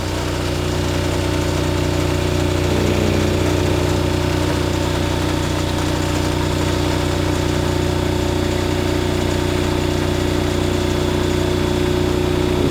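A generator engine runs steadily at around 1800 RPM while being synchronized to a bus, giving a loud, constant droning hum with a steady mechanical vibration and no voices.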